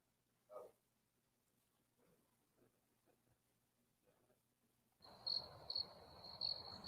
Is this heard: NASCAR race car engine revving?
no